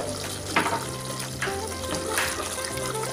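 Spaghetti sauce thickening in a pan while being stirred, a steady bubbling sizzle with soft scraping strokes of the spoon at intervals and no talk.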